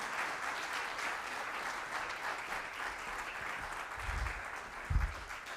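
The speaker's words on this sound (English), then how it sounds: "Let's give another round of applause to our business track" Soft, steady applause from the audience at an agriculture innovation challenge event, heard at a distance, with a couple of low thumps near the end.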